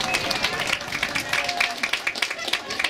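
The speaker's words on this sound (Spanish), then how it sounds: "recibámoslo con un fuerte aplauso" Crowd clapping and cheering at an outdoor municipal gathering in Somontongo welcoming the mayor, a dense, steady patter of many hands close by with voices mixed in throughout.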